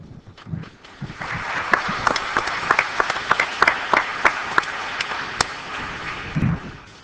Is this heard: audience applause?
yes